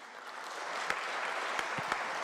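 A chamber of a state legislature applauds visiting schoolchildren, steady clapping from many people throughout with a few sharper individual claps standing out.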